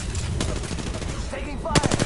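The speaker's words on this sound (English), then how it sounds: "Taking fire!" Rapid automatic gunfire in the video game Apex Legends, a dense burst of loud shots with another sharp volley near the end.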